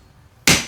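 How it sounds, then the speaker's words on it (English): A single sharp hammer blow lands on a workpiece, a loud close crack after brief quiet, ringing off quickly. "As you come down, use gravity to bring the hammer down"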